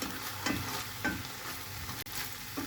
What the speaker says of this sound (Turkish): Biraz daha pişirelim. Biraz daha sotelensin.